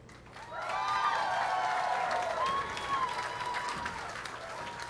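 Applause from a girls' state finals basketball crowd for the two finalist teams swells quickly and holds steady, a dense sustained clapping with crowd noise and cheers mixed in, moderately loud throughout.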